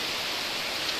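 Rain falls steadily in a deep forest sanctuary, an even dense hiss with no breaks and no voices.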